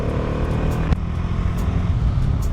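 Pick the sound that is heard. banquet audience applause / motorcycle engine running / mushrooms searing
motorcycle engine running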